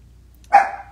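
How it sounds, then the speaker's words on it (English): A small dog gives a single short, sharp bark close by, standing out against near silence. "A funny little dog. She doesn't bark very much at all"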